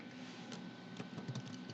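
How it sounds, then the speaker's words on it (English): Typing on a computer keyboard, a light, irregular patter of key clicks close by at low volume, ending with one sharper tap, with no talking. "Just typing in here for a sec."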